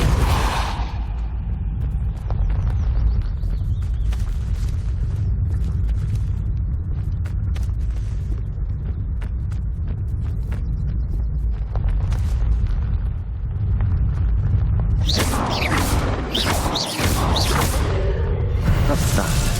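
Spell combat in Hogwarts Legacy, with a Repulso blast among whooshing magical impacts and rumbling effects, ending in a loud burst of crackling blasts near the end.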